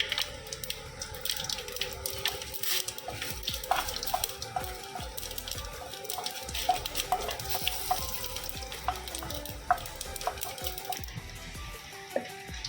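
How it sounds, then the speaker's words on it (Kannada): Mustard seeds tempering in coconut oil give a faint, continuous sizzle with scattered small pops and occasional utensil taps against the pan, at a modest level with no voices. "ಒಗ್ಗರಣೆಗೆ ಸಾಸಿವೆ, ನಾನು ಸ್ವಲ್ಪ ಕೊಬ್ಬರೆಣ್ಣೆ ಹಾಕ್ಕೊಂಡಿದ್ದೀನಿ ಎಣ್ಣೆಗೆ, ಹಾಗಾಗಿ ಇದು ಸ್ವಲ್ಪ ನೊರೆ ಬರುತ್ತೆ"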